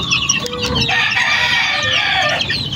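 Young chicks and chickens at a feeder cluck and peep in quick, overlapping calls, close and fairly loud, with no talk over them.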